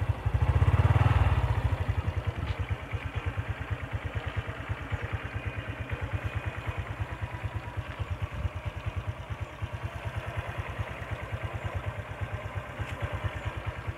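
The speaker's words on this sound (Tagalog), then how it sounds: "So pino pa naman yung andar niya guys." A 2017 Honda RS 125 motorcycle with three years of use idles smoothly up close, its steady low putter running on alone for the whole stretch after a brief louder swell at the start.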